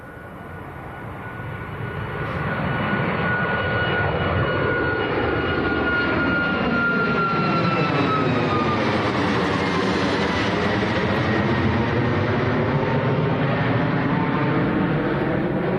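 Airliner taking off at Manchester Airport, a loud sustained jet engine roar that builds in the first seconds and then holds steady with a shifting whine, heard from nearby without talking.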